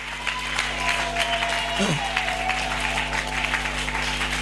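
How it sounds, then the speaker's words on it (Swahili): Church congregation clapping hands together in sustained, dense applause, steady and fairly loud throughout with a faint tonal hum underneath. "Hebu piga makofi yanayotoka, sio makofi yale ambayo yatoki"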